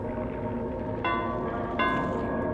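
A bell rung in the game Dead by Daylight, two ringing metallic strikes about a second apart, each leaving a sustained shimmering tone over a droning in-game ambience with no talk.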